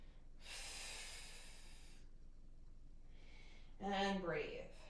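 A long, deep breath out followed by a shorter breath in, close and clear, during a strength flow class with weights and a chair. A voice begins just after.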